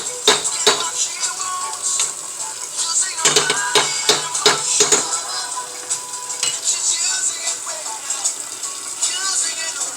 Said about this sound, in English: So right now our flour is just browning. You stir it around